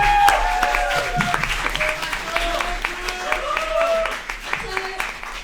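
A student election event audience applauds, and the clapping runs steadily for several seconds. Voices and cheering mix in, and people talk over the clapping throughout.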